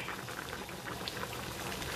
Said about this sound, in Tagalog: ngayon kumukulo na yung ano natin, gulay.